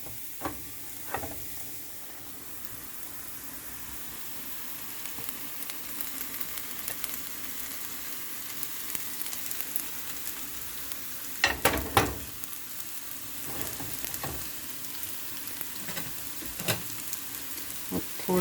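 Okra fries on a tawa with ginger and garlic, giving a soft, continuous sizzle with occasional louder clatters and scrapes from stirring.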